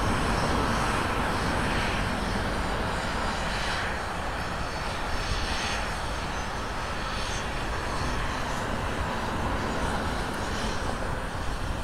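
Airliners departing Los Angeles airport, a sustained loud jet engine roar holding steady throughout with broadband rumble, close and continuous with no talk.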